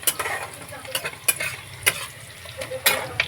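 Onion frying in a pan is stirred with a utensil, giving a soft continuous sizzle broken by sharp scraping and clinking strokes at an irregular pace, close and fairly quiet.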